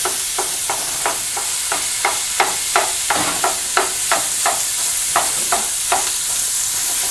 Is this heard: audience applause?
no